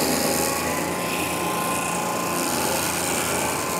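John Deere 4052R compact tractor running a brush mulcher that grinds through a tree, a loud continuous high-pitched shredding and whirring roar with no pauses.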